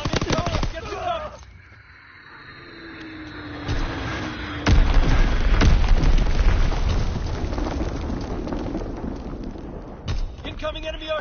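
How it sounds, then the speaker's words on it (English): Heavy bomb blasts, booming artillery and rattling gunfire fill a Call of Duty WW2 multiplayer hardpoint battle, with loud deep explosions rolling under continuous shooting and sharp cracks. "Enemy bomb in the hole!"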